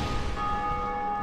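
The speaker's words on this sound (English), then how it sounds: "It is the bell of death." A church bell tolls in Dark Souls Remastered, one deep resonant strike ringing out with a long sustained, slowly fading hum.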